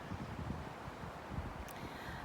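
Gusty wind buffeting a nearby microphone, a steady low rumble with uneven surges and no one speaking.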